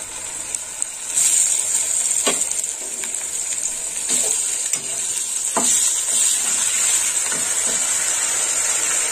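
Ginger-garlic paste and turmeric sizzle loudly in hot oil as a spatula stirs and scrapes the pan in irregular strokes, with a sharp steady hiss running underneath throughout.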